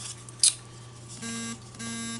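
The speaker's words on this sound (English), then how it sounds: "that was my phone telling me I have prescriptions delivered" A phone notification beeps in two short tones separated by a brief pause. A sharp click or tap comes just before them, with a faint steady hum underneath.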